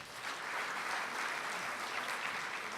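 Sustained crowd applause fills the hall at a gathering of concentration camp survivors in Portorož, a dense, steady patter of many hands clapping close by for nearly three seconds with no talking.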